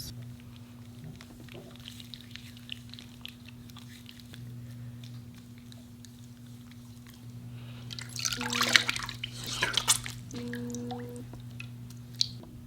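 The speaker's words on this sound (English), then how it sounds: "I'm gonna use this cleanser from Ole Henriksen and just wash my face." A face is washed with water and an Ole Henriksen cleanser, soft wet squishing and splashing of hands on skin building up near the end over a steady low background hum, with no talking.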